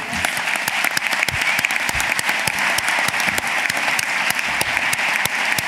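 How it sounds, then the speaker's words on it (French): Audience applause at a ceremony for the International Prize of Secularism, a dense, steady wash of many hands clapping throughout, fairly loud and continuous with no voices standing out. "On vous applaudit une nouvelle fois pour votre courage"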